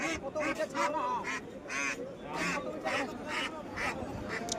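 Ducks quack repeatedly in loud, close bursts at a busy pigeon market, with crowd chatter and voices running underneath throughout.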